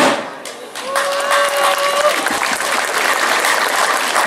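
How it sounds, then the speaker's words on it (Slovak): Crowd applause fills the open air at the opening of the 21st annual Turíčny jarmok village fair, with steady dense clapping throughout and a voice briefly heard over it near the start. "to si zaslúžil naozaj veľký potlesk"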